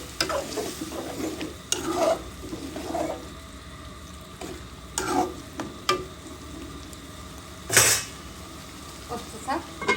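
Chicken gizzard curry with cumin and a little water being sautéed in a pan: soft sizzling under repeated spoon scrapes and clinks against the pot, with a sharper knock near the end.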